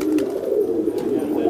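Pigeons coo in a low, steady rolling murmur, close by and clear with no talking. They are stout, large kaldum pigeons from Sambhal.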